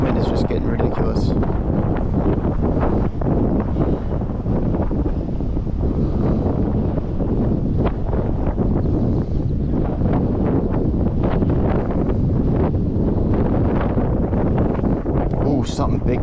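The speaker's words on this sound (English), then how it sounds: "This wind is just getting ridiculous." Strong wind roars continuously over a swamp during bass fishing, a loud, steady buffeting rumble across the microphone, with a voice faintly mixed in.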